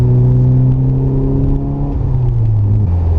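A Porsche 944 runs along a winding road with a loud, steady engine drone and whir inside the car, its pitch dipping and settling as the driver shifts, with no voices.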